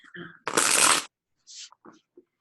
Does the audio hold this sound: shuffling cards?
yes